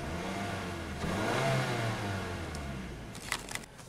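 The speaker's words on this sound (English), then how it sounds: "This is just a regular natural aspirated engine." A regular naturally aspirated Mazda3 engine revs up and settles back nearby, its pitch rising then falling, followed by a few faint clicks, with no talking.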